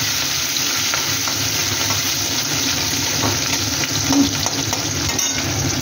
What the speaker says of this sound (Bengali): পেঁয়াজটা ভাজা ভাজা হচ্ছে